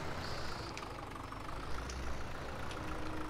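Tractor engine idling in Farming Simulator 17, a steady low rumble with a constant mid-range drone and faint higher whine, continuous and fairly near throughout with no talk.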